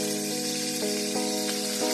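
Salted, seasoned skin sizzles steadily in a hot pan, a dense, even crackle with small pops, close by and without any voices.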